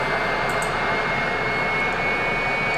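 Fouga Magister jet engine spooling up in Microsoft Flight Simulator, a loud continuous turbine roar with a high steady whine, close and unbroken, with a few faint clicks and no talking.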